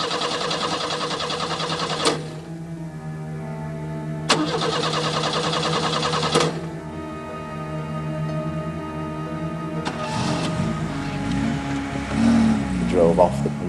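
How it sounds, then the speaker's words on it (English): A car engine cranks repeatedly, with long grinding starter attempts broken by pauses, before catching and settling into a steady idle, heard close with some background noise. "We went to start the car, and at first the car wouldn't start"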